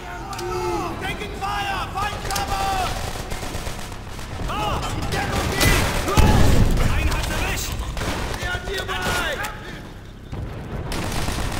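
Rapid bursts of gunfire in Call of Duty: World at War on a hardened campaign mission, dense and continuous with booming impacts, overlapping game voices and chatter throughout.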